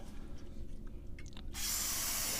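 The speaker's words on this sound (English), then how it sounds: "We're going to take a can of carburetor cleaner, and we're going to spray this groove out" A short burst of carburetor cleaner spray hisses loudly and steadily from an aerosol can into a BMW X5 valve cover groove, after a quiet stretch with faint clicks and handling noises.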